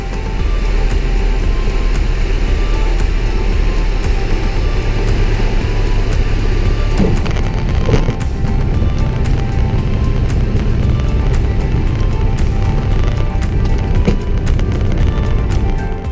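Light aircraft 98JG, an airplane setting off for Monroe Airport, with a loud, steady engine drone that holds constant the whole time and a slight shift partway through.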